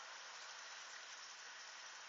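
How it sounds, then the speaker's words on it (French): Heavy downpour at Tour-en-Sologne in April, a dense, steady hiss of large raindrops pouring down without pause, loud and close with no voices. "Les gouttes sont de plus en plus grosses et de plus en plus fortes"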